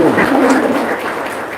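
Indonesian audience applauding at an evening talk, steady dense clapping filling the whole stretch at moderate loudness with no pause.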